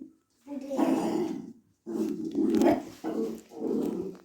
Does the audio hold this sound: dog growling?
yes